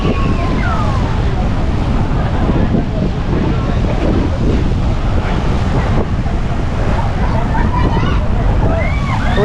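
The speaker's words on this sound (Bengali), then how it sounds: "সমুদ্রের জল একদম পাড়ে আঁচড় মারছে" Sea waves surge onto the shore at Dwarka in a loud, continuous roar, with heavy wind buffeting the microphone throughout and faint voices and a distant siren-like tone mixed in.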